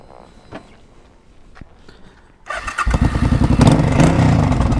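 A Suzuki Boulevard C50T V-twin cruiser with baffles removed from its stock exhaust cranks and fires up halfway through, then settles into a loud, close, lumpy idle after a few quiet clicks and footsteps.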